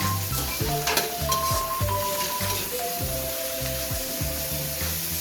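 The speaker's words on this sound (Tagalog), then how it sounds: "Ihalo lang ito at lutuin." Meat and onions sizzle loudly in a pan as they are stirred and sautéed for adobo, a continuous close frying hiss over soft background music with no talking.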